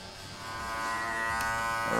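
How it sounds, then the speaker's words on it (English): A cordless Master hair clipper, opened all the way, buzzes steadily and close while cutting the first step of a fade in a barbershop, its hum rising slightly as it meets the hair. "So now I've got cordless master all the way open. I'm just sort of creating the first step in this fade."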